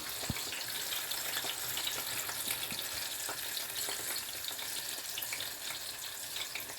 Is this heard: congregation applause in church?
no